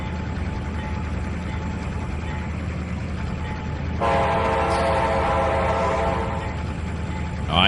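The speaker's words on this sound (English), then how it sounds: "Jeff's at their River Point Yard shunt, the switcher engine, and he is going to have to cut this train up here." A switcher engine works a rail yard in the Trainz 2019 simulator: a constant low rumble of moving cars, then a horn sounds loudly partway through and holds over the rumble.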